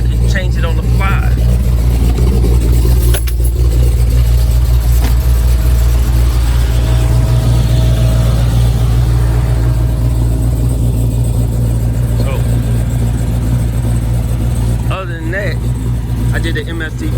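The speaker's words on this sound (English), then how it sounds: "I can't really talk with the car being on. It's so loud." A Dodge Hellcat in Storm Trooper trim runs with a full MST exhaust, its loud, steady engine drone filling the whole stretch with a deep constant rumble and faint voices underneath.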